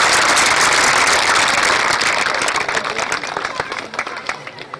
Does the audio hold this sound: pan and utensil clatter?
no